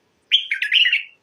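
A male bulbul in Baghdad sings a short, clear, close burst of warbling, chirping notes lasting under a second against a silent background.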